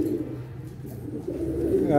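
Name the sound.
teddy pigeons cooing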